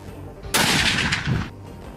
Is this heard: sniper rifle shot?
yes